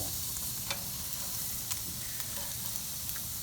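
Steak and potatoes fry on a grill in a soft continuous sizzle and hiss, with a few faint scraping clicks as the pieces are turned; no one talks.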